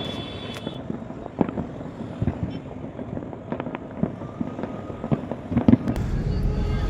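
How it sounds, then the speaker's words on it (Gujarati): Fireworks bursting over rooftops in Vadodara during the Uttarayan kite festival, a continuous crackle of distant bangs and pops with sharper nearer cracks, set over a steady outdoor rumble. "મસ્ત નજારો છે ફટાકડાનો"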